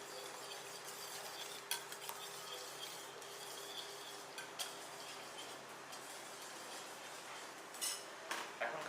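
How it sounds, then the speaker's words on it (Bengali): A Greek-style mixed beans salad with fresh lime juice is stirred with a spoon in a bowl, giving soft continuous scraping broken by occasional light clinks, close and alone, without talk. "দেন এটাকে জাস্ট আমি একটু ভালো মতো মিক্সড করে নিব।"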